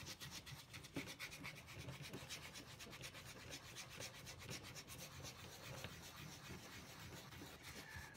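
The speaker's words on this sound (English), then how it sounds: "I'm going to take my foil and I'm going to buff it in a circular motion" Aluminum foil buffed in circular motion against guitar chrome, producing faint, continuous rubbing and scratchy friction strokes at a steady rhythm, close to the microphone and quiet, without talk.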